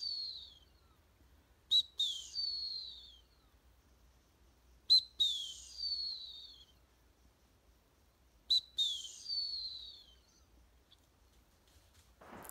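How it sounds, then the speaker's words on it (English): Trainer's search command whistle for a German Shorthaired Pointer learning to flush game, blown three times in clear, evenly spaced sharp trilling bursts, close and loud against a quiet outdoor background. "This is the search command whistle."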